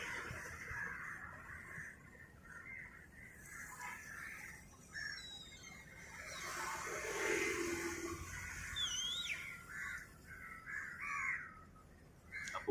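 Crows cawing at Kozhikode beach, several harsh calls rising over a steady outdoor wash of wind and crowd murmur, some near and some farther off.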